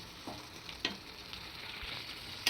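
Prawns fry in a pan over a low flame with a soft, steady sizzle and a few faint scrapes and ticks, quiet and close with no voices.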